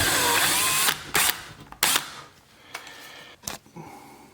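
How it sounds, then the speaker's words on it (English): A power drill drives a 9/64 bit into a wall stud while a vent-free gas heater is installed, giving a loud steady whine that breaks into several short bursts and stops, with no voices. "the other one we're going to use the 9/64 drill bit on it because it has a stud over there."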